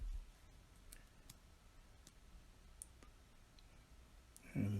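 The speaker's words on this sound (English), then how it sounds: "And adjust the nib again." Small, sparse clicks and ticks come from fitting a Schmidt fine nib and its feed into a PenBBS 456 fountain pen section, faint and close, with a louder handling knock at the very end.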